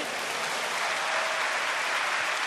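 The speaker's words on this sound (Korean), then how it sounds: "박수 부탁드립니다." An audience at a church Bible recitation contest claps steadily, a dense wash of applause that holds at even loudness for the whole moment.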